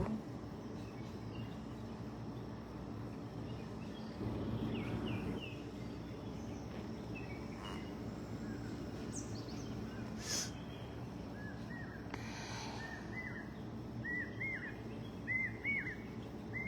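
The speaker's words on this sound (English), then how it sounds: "Birds." Faint, scattered bird chirps in the distance, heard from a tenth-floor room, mostly near the end, over a steady low outdoor hum.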